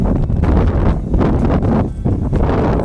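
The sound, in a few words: strong wind blowing across open land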